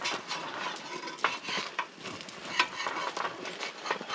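An egg frying and sticking in a pan at a camp stove outdoors, giving a faint continuous sizzle with soft scraping and clinks of a utensil against the pan, steady and close without talk.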